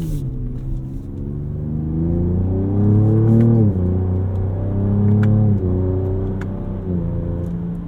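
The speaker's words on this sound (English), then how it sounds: "A little tire noise there." Steady road and tire rumble inside a 2024 Ford Ranger Raptor truck as it drives and accelerates, a continuous low drone with engine whir rising and shifting through gears, loud and close with no talking.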